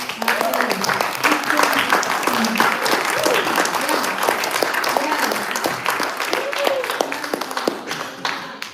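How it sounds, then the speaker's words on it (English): A crowd at a LiveGood event in Dallas applauds James R. Davis, loud sustained clapping from many hands with a few sharp near claps, while voices call out and talk over it throughout. "let's give him a great round of applause"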